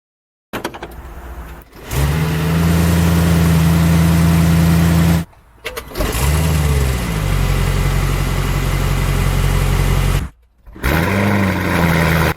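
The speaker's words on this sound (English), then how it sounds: "It sounds so throaty, just what I would expect from a V8." A Mansory-modified Mercedes-AMG GLE 63 Coupe P900 SUV with a V8 and custom exhaust gives three loud, sustained throaty blasts of deep rumbling exhaust, each swelling with revs and then cutting off abruptly into brief silence.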